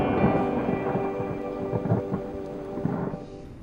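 Thunder from a lightning storm rumbles continuously, with loud rolling cracks and booms over steady rain, heard without any voices.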